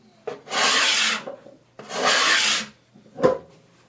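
A sharpened card scraper pushed across wood raises curls in two long rasping strokes followed by a short third scrape, close and crisp with quiet gaps between.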